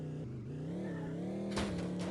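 Steady car engine drone in a soft body physics driving sim on a track with damage deformation, holding an even pitch and then swelling briefly into a brighter rev near the end, with no talking.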